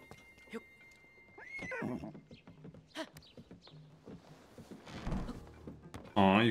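A horse in Zelda: Tears of the Kingdom whinnies with a clear rising and falling neigh, along with a few thudding hoof sounds and clunks, over quiet game ambience.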